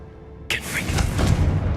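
Confringo blasting spell exploding in Hogwarts Legacy: a sudden, loud burst that swells into a rumbling boom lasting over a second.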